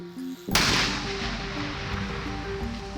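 An old explosive left from the Vietnam War is detonated on site: one sudden loud blast, then a long rumbling decay, with music playing underneath.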